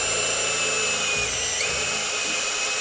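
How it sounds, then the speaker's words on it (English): Power drill boring holes in aluminum sheet, a steady loud whine with a high pitched tone held throughout and a brief pitch dip partway, close and continuous with no talking. "Does that make sense why we're drilling the holes?"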